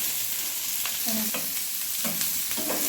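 Garlic, leaves and onion hitting hot oil for an egg tadka: a steady hissing sizzle close by, punctuated by several brief clinks and scrapes of stirring, with no speech.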